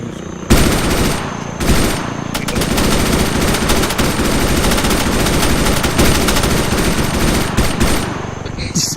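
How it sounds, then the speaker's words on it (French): Loud, sustained bursts of rapid automatic gunfire crackle almost without pause, separated by a couple of brief gaps near the start. "Vous voulez que je tire"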